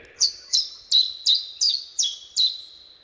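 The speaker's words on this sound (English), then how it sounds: "the first half of this is a real songbird. The zebra finch, second half is generated." Seven bright, evenly spaced chirps from a zebra finch, part real and part AI-generated, each a sharp high note followed by a short buzzy tail, clear and close.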